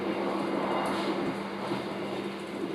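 Inside a Turangga express train running between Mojokerto and Surabaya, a steady, loud rumble of the moving carriage fills the whole stretch, with constant wheel and rail noise and no talking.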